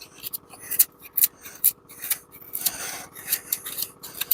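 A small puukko knife carves curls of wood shavings from a piece of wood: repeated dry scraping rasps in quick irregular strokes, close and fairly loud, with no talking.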